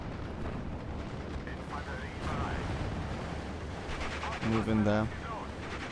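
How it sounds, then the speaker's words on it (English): Distant artillery and small-arms fire rumble under dense battle noise in the World War II strategy game Steel Division Normandy 44, during the Pegasus Bridge mission, while voices talk over it. "Why are they still shooting at the position when that person moved away?"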